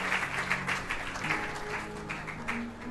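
Church congregation clapping together in a rhythmic, sustained burst that fills the room at moderate loudness, with a faint low murmur of voices beneath.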